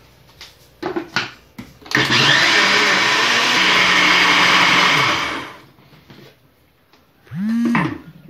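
After a few clicks and knocks, a kitchen blender roars loudly for about three seconds while mixing batter for a chicken and potato pie, then winds down, followed by a short whirring burst.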